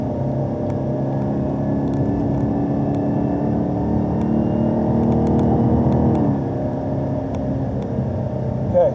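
A car engine held at high RPM on the Canadian Tire Motorsport Park race track, heard as a loud, steady, close droning whine that holds nearly constant, easing slightly for a moment before climbing back.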